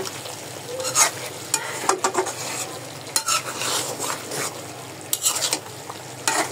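Curry hissing and sizzling in a hot pan as water goes in, with a spoon scraping and stirring against the metal in irregular close strokes; no talking.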